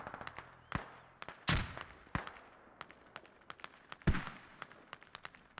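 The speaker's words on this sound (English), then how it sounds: "I've just saw mortars going out" Mortar fire in the tactical shooter Squad on the Narva map, with distant booming launches and impacts scattered among many sharp, faint cracks of battlefield gunfire.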